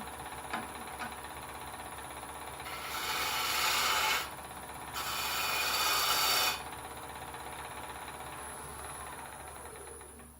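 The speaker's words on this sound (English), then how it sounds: "most of my work is done with the same 1/2 inch bow gouge" A half-inch bow gouge cuts wood spinning on a lathe while a snowman is turned, giving two sustained, close, hissing scraping passes, each a second or two long, separated by a short pause over a low steady motor hum.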